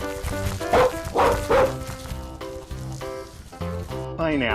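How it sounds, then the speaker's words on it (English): A dog gives a series of sharp, loud barks with short yips between them, close and clear, in a children's learning video. "Dog."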